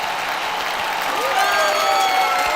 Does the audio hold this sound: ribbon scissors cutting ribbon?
no